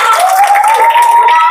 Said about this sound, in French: Applaudissez toute l'école trop fort.